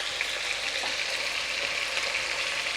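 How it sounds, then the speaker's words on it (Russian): Chicken fries in a pan on a stove turned to maximum heat, giving a steady, even sizzle throughout with no voices. "плита на максималке, а она не сильно уж так-то тут и шипит"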